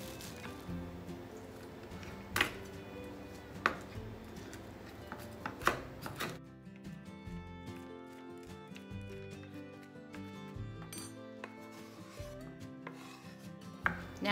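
A knife finely dices a sweet onion on a cutting board, giving scattered sharp chopping taps, some in quick pairs, faint and close over a continuous musical background.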